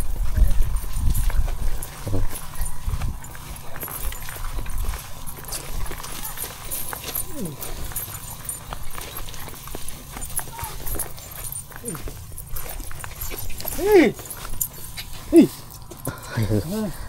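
Horses clip-clop along a difficult mountain trail in Tayabas, irregular hoof knocks scattered across the stretch amid rustling and a dog's whimpers, while people talk throughout.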